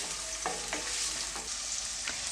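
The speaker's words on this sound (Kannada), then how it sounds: "ಒಂದು ದೊಡ್ಡ ಸೈಜು ಈರುಳ್ಳಿನ ಕಟ್ ಮಾಡಿಬಿಟ್ಟು ಈರುಳ್ಳಿನ ಹಾಕ್ಕೊಳ್ತಾ ಇದ್ದೀನಿ ಈರುಳ್ಳಿನ ಒಂದು ಸ್ವಲ್ಪ ಫ್ರೈ ಮಾಡ್ಕೊಳ್ಳಿ" Chopped onions frying in oil in a pan, a steady bright sizzle with a few soft stirring scrapes, close and continuous.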